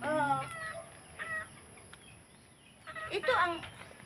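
Chickens clucking in a household yard, with short bursts of clucks near the start and again toward the end over a quiet background.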